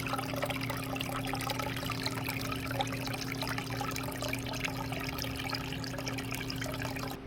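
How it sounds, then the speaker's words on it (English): Steady trickling and splashing of a small patio waterfall falling into a goldfish pond, continuous and close, with a low hum underneath. "We enjoy the sound on the patio now, and the waterfall I think turned out great."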